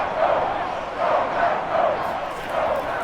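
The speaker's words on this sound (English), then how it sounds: "the crowd getting into it as we come up on a big third down" A stadium crowd in Madden 22 during a Bills vs Packers game roars in swelling waves, loud and continuous, rising and falling several times without any clear talk on top.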